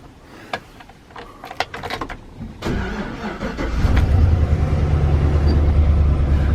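A few clicks and rattles, then a 2007 Chevy Express 3500 van engine with a sticky lifter cranks, fires up and settles into a steady, loud idle nearby.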